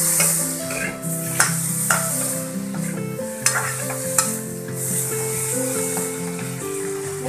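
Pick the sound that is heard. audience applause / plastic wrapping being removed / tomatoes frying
tomatoes frying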